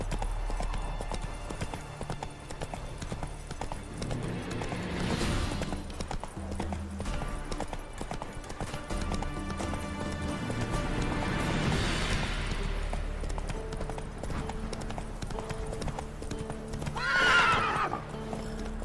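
Roach the horse gallops with rapid clip-clop hoofbeats across the whole stretch in The Witcher 3 game, under a steady musical score, with a loud neigh rising near the end.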